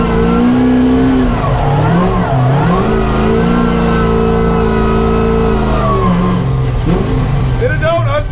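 A drift car, either a Corvette C6 or an SR20-powered MX5, spins donuts as its engine revs loudly and close, the pitch swooping up and down through the turns.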